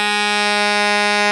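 Alto saxophone holding a low F natural, a full, buzzy sustained tone with strong overtones, steady and loud throughout with no talking.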